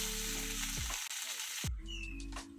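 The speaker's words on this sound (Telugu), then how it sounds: "పాన్లో ఒక స్పూన్ ఆయిల్ వేసి 1 కప్పు ఉల్లిపాయలు, పెద్ద సైజు 2 టమాటాలు, ఇలాగా ఈ ఉల్లిపాయలు టమాటాలు కూడా ఫ్రై చేసుకోవాలి." Chopped onions and two large tomatoes fry in a spoonful of oil in a pan, a steady close sizzle with a few stirring scrapes and a brief shift midway, no voices.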